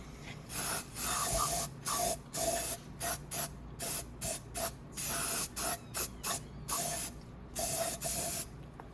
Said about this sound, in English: Spray it inside the cylinder too, clean it up a bit.